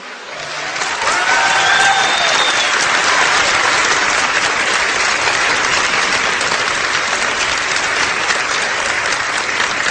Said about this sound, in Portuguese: Eu sei que é fácil para vocês baterem palmas.